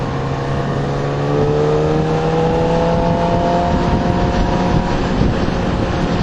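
A Yamaha R6 sport motorcycle in third gear, sport mode, accelerates hard, its engine note climbing steadily in pitch, loud and close, mixed with rushing wind noise.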